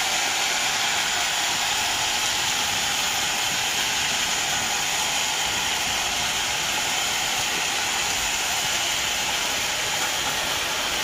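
Dheki shak fern greens frying in a pan, a steady loud sizzling hiss that holds evenly throughout with no pauses.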